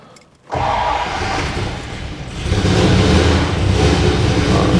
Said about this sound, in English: I just gave it a little bit of gas